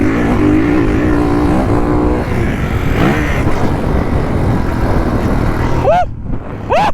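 A Kawasaki KX450F dirt bike engine drones steadily at a cruising pitch in third gear, loud and close throughout, with a brief rev rise near the end.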